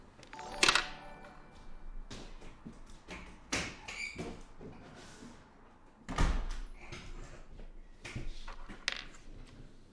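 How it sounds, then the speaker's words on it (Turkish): Several dull thuds and knocks of a door banging shut, irregular and moderately loud, over a low background rumble. "Kapı çok çarpıyor değil mi? Bir dakika kapıyı kapatayım"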